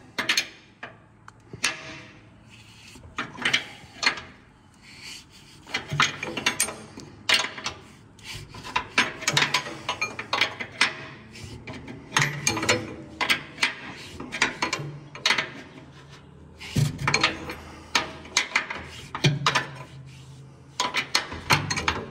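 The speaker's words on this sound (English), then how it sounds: "what we got to do is loosen these nuts right here" Nuts are loosened by hand during SEMA prep work, with irregular close rasping, ratcheting and scraping bursts of varying loudness and no talking.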